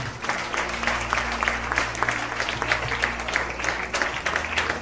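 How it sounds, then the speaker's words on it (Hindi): A church congregation claps during a Hindi Easter sermon. The clapping is sustained and busy, with a faint rhythmic pulse, over a steady low electrical hum from the room's sound system. "एक बार फिर से ताली बजाइए।"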